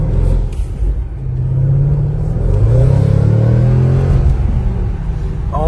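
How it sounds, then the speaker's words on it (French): Deep, loud engine rumble of a rear-wheel-drive car accelerating, its pitch rising steadily as it revs, heard from close by as a continuous roar. "Et le son de la voiture, il est complètement dingue."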